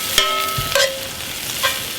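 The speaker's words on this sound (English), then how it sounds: "We put about half an onion in there or so, and just let them saute for a little bit" Half an onion and a chopped serrano pepper sauté in a Dutch oven. A steady close sizzle is broken by a few sharp clinks of a utensil scraping and stirring against the pot. No one speaks.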